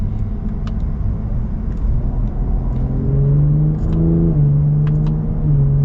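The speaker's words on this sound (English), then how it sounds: "those gear shifts are like instantaneous." A 2021 Cadillac CT5-V engine accelerating in manual mode, a loud steady rumble with rising engine tones broken by quick gear shifts, heard from inside the car.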